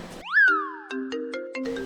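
A mobile phone rings with a short synthetic tone: a rising swoop followed by a series of clipped electronic notes, clear and close, with no one speaking.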